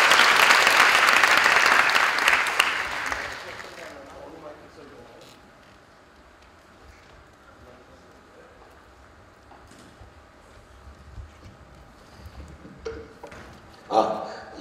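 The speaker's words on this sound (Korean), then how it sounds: "뜨거운 박수 부탁드립니다." Warm applause from a lecture audience at a special talk, loud dense clapping for about three seconds that fades away, followed by quiet room tone and a few faint knocks.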